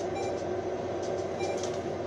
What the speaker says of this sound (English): it seems like the train's like moving, supposedly